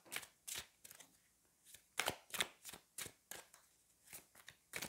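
Tarot cards being shuffled and handled during a card reading, with crisp, quiet flicks and slides that come close together in short irregular bursts.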